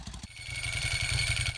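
Ducati Monster V-twin motorcycle engine, a brief close rumbling idle with a throaty low pulse and mechanical clatter, steady and moderately loud without voices.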